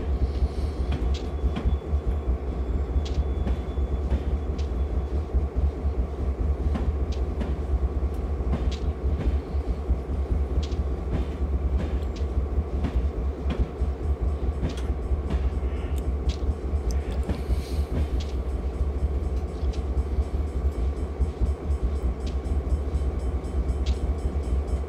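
A Union Pacific GP38 diesel locomotive in a Train Simulator game runs on the UP Hollister Branch, a loud, steady engine rumble with constant rail noise and faint clicks throughout, with no voices.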